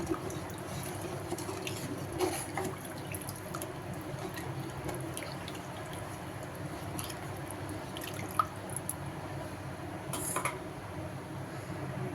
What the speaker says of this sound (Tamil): இப்போ ஒரு லிட்டர் தண்ணி வந்து சேர்த்துக்கலாம்